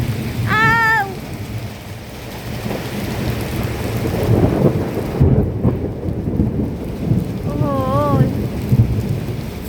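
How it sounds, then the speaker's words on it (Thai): Heavy rain pours steadily while thunder rumbles through it; a voice calls out briefly near the start and again near the end. "ฟ้าร้องนี่สุดๆเลยนะคะ"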